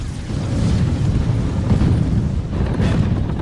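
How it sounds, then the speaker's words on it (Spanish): Continuous deep rumbling booms roll on without a break, a dense, heavy wall of low-pitched blasts and thuds, from explosions on a night battlefield during a Pacific war tank battle. "Explosiones y estallidos iluminan el campo de batalla."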